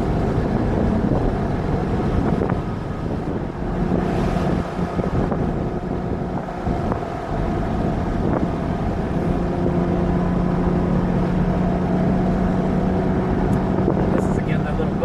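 A Porsche Cayman at speed on the VIR race track gives a steady engine drone and rushing wind noise throughout, with a driver talking over it.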